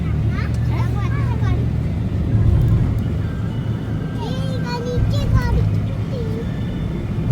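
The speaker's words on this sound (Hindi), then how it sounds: "बैठे हैं गाड़ी में।" Riding inside a car on the way to grocery shopping, with a steady low road and engine rumble throughout while an adult and someone talk over it.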